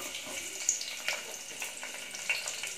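Onion frying in a pressure cooker for kurma gives a soft, continuous sizzle with scattered crisp crackles and pops, close and moderately loud, with no voices.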